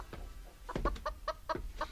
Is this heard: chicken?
yes